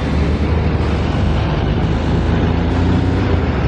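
A steady, loud rumble of a train rolling past nearby in Krucuk, Cirebon, with dense continuous roar and faint rhythmic clatter throughout.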